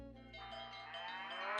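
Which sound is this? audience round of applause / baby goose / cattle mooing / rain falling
cattle mooing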